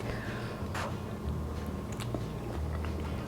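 Close, soft chewing and crunching of a bite of hot leek and pine nut holiday dressing, faint mouth sounds over a steady low background hum.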